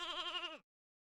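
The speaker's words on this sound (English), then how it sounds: "The sheep are terrified." A single sheep bleats in the video game Fate/Grand Order, a short, wavering, nasal cry that stops abruptly, heard alone and fairly close.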